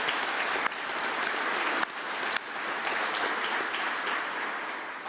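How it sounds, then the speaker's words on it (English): Steady round of applause from the crowd at a grand opening ceremony for the McMinn Higher Education Center, fairly distant and even, with a few sharp thumps from handling noise. "Let's give them a round of applause."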